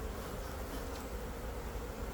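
Honeybees buzz in a dense, continuous drone during a hive inspection, steady and close with no talk.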